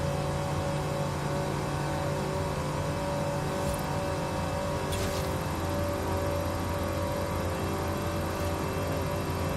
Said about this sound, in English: This truck gets up to its speed pretty quickly.